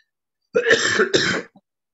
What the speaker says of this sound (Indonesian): Batuk ya Pak?